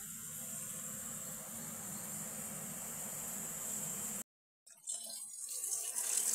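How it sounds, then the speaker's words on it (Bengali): Tap water runs steadily into a kitchen sink while katla fish pieces are washed, a continuous close hiss that cuts out briefly near the end, then resumes with splashing. "একটু মাছটা না ধুয়ে নিই"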